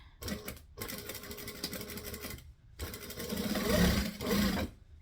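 Sewing machine stitching vinyl, a steady motor whir running in two long bursts separated by a brief pause, close and fairly loud.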